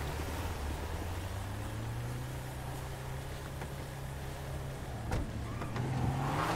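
A police vehicle in GTA V FivePD rolls up with a steady engine drone that rises in pitch, a few light clicks and thumps on top, and no voices.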